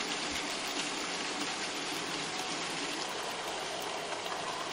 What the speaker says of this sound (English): you'll want to drain the wastewater out of the filters